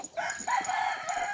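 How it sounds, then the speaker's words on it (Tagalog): A rooster crows among chickens at a mountain campsite in Calawis, Antipolo, Rizal, a single drawn-out call at moderate distance, fairly faint. "Diyan marami-rami tayong manok dito."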